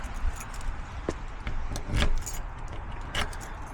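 A bunch of keys jangles while someone tries a locked door at a home, metallic clinks and rattles coming in short bursts, close by, among light handling noises.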